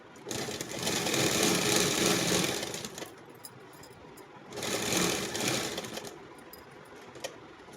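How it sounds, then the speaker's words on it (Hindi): A sewing machine stitches fabric for an off-shoulder top in two loud bursts of fast, even whirring, separated by a quieter pause, heard up close. "मैं एक और बार सिलाई लगा देती हूँ।"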